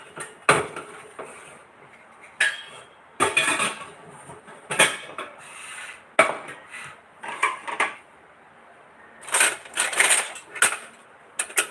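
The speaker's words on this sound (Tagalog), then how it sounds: "Nag-aaway ang mga pinggan dito." Plates and dishes clattering and knocking together in irregular sharp bursts, some clustered and some isolated, fairly close with no voices over them.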